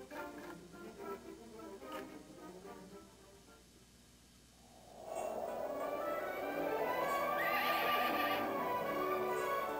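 A horse whinnies loudly partway through, following quieter rustling and faint clopping, the neigh rising and trailing off over a steady background.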